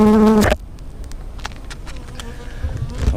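Honey bees at a hive give a loud, close buzz for about half a second before it drops to a faint hum and scattered rustling, with no talking.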